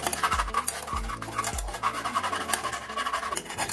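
A spoon stirs basundi premix with nutmeg in a pan, producing soft, quiet scraping and clinking strokes in an irregular rhythm, close by.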